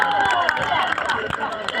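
An audience at a stage programme applauds, giving a short burst of dense, close clapping mixed with crowd noise and faint murmuring voices.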